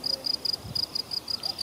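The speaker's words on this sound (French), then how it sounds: "Des grillons ou je ne sais pas ce que c'est. Un insecte qui fait une jolie mélodie." Crickets chirp outdoors on a fruit farm in quick, evenly spaced high-pitched pulses, a steady rhythmic trill at moderate distance with no talking.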